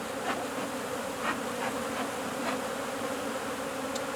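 Honey bees buzz steadily around an open hive while frames are lifted and inspected, a dense, continuous drone at close range with no talk.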